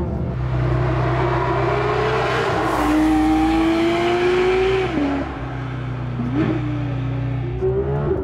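A Porsche GT3 RS engine revs hard and climbs through the gears, its roar rising in pitch with short dips at each shift, loud and close.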